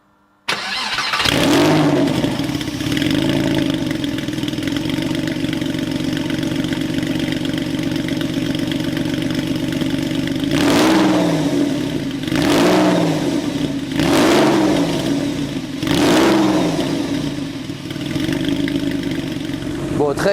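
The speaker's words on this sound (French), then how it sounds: "On le voit vraiment au moment où on démarre que les gaz s'échappent immédiatement avant de retomber au ralenti." A Porsche 911 fitted with decats cranks and fires up, then settles into a rough, raspy idle. Four sharp throttle blips follow later in quick succession, each dropping back to the idle.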